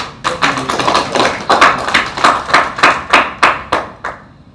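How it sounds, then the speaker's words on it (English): An audience claps at a realtors' search engine optimization talk, about a dozen evenly spaced loud claps in a steady rhythm, close and clear, fading slightly at the end. "Clap for me now."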